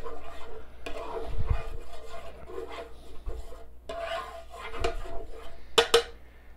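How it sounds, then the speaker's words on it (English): Scraping and rasping of a utensil across a hard granite griddle, in several uneven strokes with a few sharper scrapes near the end, up close. "did you hear that scrape? Good thing this is granite."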